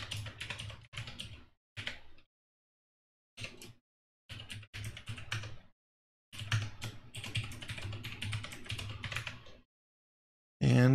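Bursts of typing on a computer keyboard while an IP address and folder are entered, close and clear, arriving in several separate runs of rapid key clicks with short silent pauses between them, and no voices.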